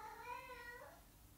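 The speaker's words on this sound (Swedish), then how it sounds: "Och nu jamar katterna i bakgrunden." Cats meow in the background, one drawn-out, wavering meow lasting about a second, faint and distant against a quiet room hum with no talking.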